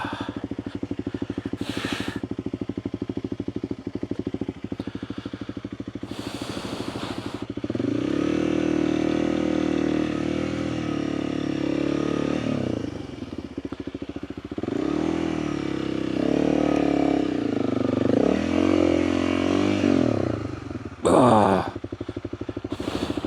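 A dirt bike engine idles and revs steadily while the rider walks it up a steep climb out of Turkey Creek, its tone rising and falling in bursts through most of the stretch, close and loud with brief clatter.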